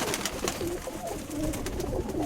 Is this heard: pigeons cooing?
yes